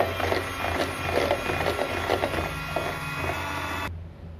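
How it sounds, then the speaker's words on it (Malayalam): An electric mixer beats egg yolks for a plum cake, making a steady, fairly loud mechanical whir with a rhythmic rattle against the bowl. It runs without pause and cuts off abruptly near the end, with no talking. "ഇനി നമുക്ക് എഗ് യോക്ക് ഒന്ന് ബീറ്റ് ചെയ്തെടുക്കണം."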